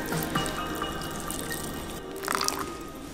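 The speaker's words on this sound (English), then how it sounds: "Pour in the boiled water." Boiled water pours and trickles into a bowl of ramen noodles, a gentle splashing stream with small drips, close by and quiet.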